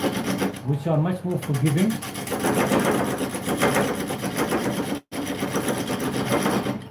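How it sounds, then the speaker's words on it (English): A carbide-tipped turning tool cuts into a wooden workpiece, producing a continuous close rasping scrape that runs under a person talking. "I'm currently using carbide tip tools"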